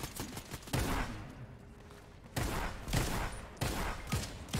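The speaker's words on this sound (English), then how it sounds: "I'm getting shot by somebody else." Rapid bursts of gunfire in Fortnite, including shotgun blasts, come in several loud, dense volleys with brief pauses between them, close and harsh, with no speech over them.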